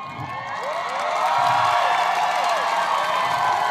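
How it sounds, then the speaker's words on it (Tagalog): Audience at an outdoor comedy night in Capitol Park, Sorsogon City, cheering and clapping loudly, with shouts and whoops rising over a continuous crowd roar that swells after the first second and stays strong throughout. "Kasi kailangan tatapusin namin to kung may palakpakan at hiyawan."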